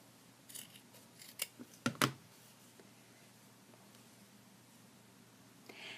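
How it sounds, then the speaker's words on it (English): Scissors snip through fabric while trimming a seam allowance on handmade American Girl doll clothes, a few crisp close cuts clustered early, then quiet. "I'm cutting off and leaving about 1/4 of an inch"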